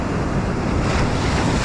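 Strong ocean waves break steadily on a Philippine shore where someone is fishing, a continuous loud wash of surf mixed with gusty wind noise on the microphone and no voices.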